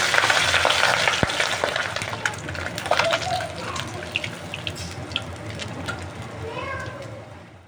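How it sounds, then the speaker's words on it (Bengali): Pabda fish fry in hot oil in a pan and are flipped over, a loud crackling sizzle with scraping turns and bursts of spatter that gradually eases. "বাকি যে দুটো মাছ ছিল সেটাও আমি ভালোভাবে উল্টে পাল্টে ভেজে তুলে নেব।"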